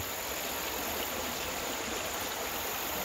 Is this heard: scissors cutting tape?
no